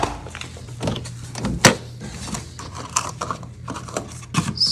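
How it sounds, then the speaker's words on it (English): A fluid evacuator being hooked up to pump gas from a Subaru WRX tank, heard as close mechanical clicks, rattles and plastic clunks with a sharp knock partway, no talk. "Fluid evacuator."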